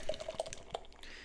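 Tree House Brewing Haze Marshmallow beer trickling from a can into a glass, a short run of close, bright drips and glugs.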